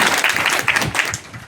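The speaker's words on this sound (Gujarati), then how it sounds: "તો જોરદાર એકવાર તાળીઓથી કરતા" A crowd at a community meeting breaks into brief, energetic applause, a dense patter of many hands heard close and loud for a moment.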